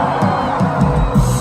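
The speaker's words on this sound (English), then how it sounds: "let me hear you give a cheer." An audience at a live concert cheers and whoops, a loud sustained roar of voices with some deeper rumble underneath.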